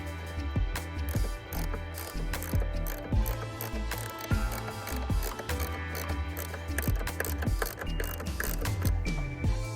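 A ratchet with a 1/2-inch socket removing the strut bolts on a Saab 9-3, giving repeated close clicking and mechanical rattling in uneven bursts over a low rumble, with no speech.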